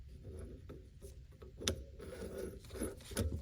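An antique starter's inertia bendix gear is turned along its threads by hand, making a few quiet, sparse mechanical clicks and ticks against faint background noise.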